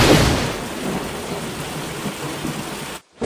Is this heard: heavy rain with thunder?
yes